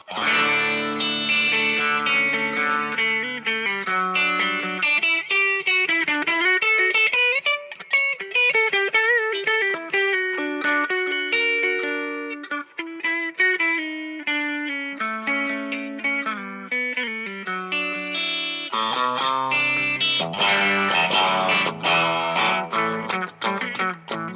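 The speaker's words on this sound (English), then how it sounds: "when you use all three pickups and you put the middle pickup out of phase" A heavily effected Stratocaster-style electric guitar with all three pickups on and the middle pickup out of phase plays continuous chords and lead lines with a thin, hollow, nasal tone, loud and steady throughout.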